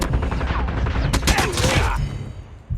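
Gunfire in the mobile video game Call of Duty Mobile, with loud rapid bursts of shots crackling close by across a couple of seconds before trailing off.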